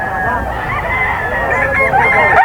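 A rooster at a breeder sale crows in a drawn-out call up close, with other fowl and a murmur of voices around it.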